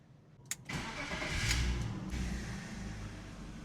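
BMW E36 engine cranking and catching after an idle fix, a sharp click then a quick rise into a smooth, steady idle, close and alone.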